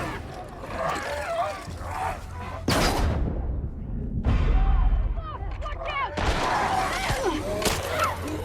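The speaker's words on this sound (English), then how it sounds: "Let's stun bomb him!" Stun bomb thrown in The Last of Us Part II, a loud burst of blasts and ringing debris breaking out midway among gunfire-like game noise and a voice talking throughout.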